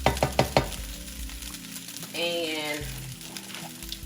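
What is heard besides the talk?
butter added to chicken wings sizzling in pan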